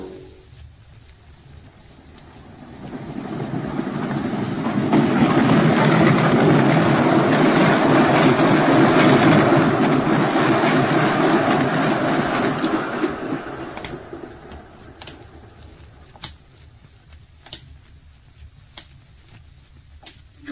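A train rumbling along rails in a radio drama, swelling from a low murmur to a loud, broad roar at its peak, then fading away with a few faint clicks and knocks.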